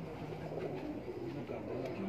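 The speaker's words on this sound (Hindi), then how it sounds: "इस कबूतर के बारे में बताइएगा थोड़ा सा" A champion pigeon coos on a Punjab rooftop in low, soft repeated calls over steady ambient background noise, with no talking.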